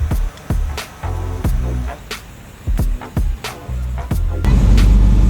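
The car from the Bob Marley movie is driven, its engine revving in short bursts between sharp clicks and knocks, building to a loud sustained rumble at the end.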